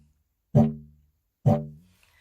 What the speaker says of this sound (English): when you put it on the didge, it'll sound something like this.